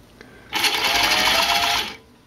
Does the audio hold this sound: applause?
no